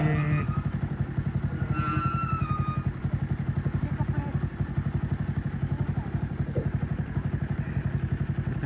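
A motorcycle engine idles close by after being parked outside a house, its steady chugging pulse running evenly from start to finish with a brief higher whine early on.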